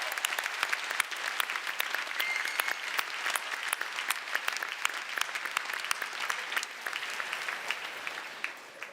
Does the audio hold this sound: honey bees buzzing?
no